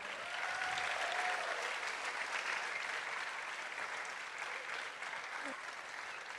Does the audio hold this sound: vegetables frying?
no